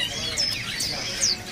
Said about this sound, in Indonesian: Ada juga burung poksai mantel gacoran nih.